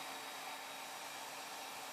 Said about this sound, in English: With the hairdryer on high, focus the heat on the crayons.